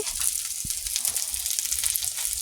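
Loitta (Bombay duck) fish frying in a pan gives a steady, close hiss of sizzling oil with faint crackles throughout, and no one speaks.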